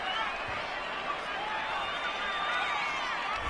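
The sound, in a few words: stadium crowd reacting to a penalty call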